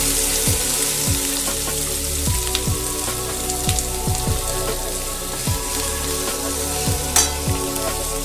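Chopped onions fry in oil with a constant close sizzle, punctuated by repeated scraping strokes of a stirring spoon at an uneven rhythm, with no voices over it.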